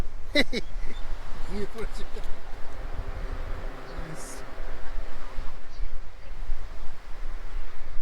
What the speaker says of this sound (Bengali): হাওয়া ঢুকছে